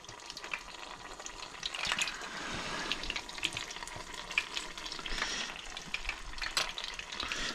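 Pieces of snapper and gurnard fish fry in a pan with a steady, close crackling sizzle, spattering pops scattered throughout and no voices.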